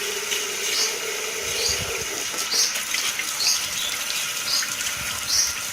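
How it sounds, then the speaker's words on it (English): Sprouting seeds being rinsed in a container under running tap water, a steady close splashing flow with small repeated surges and sloshes. "I'm just rinsing the seeds at this point."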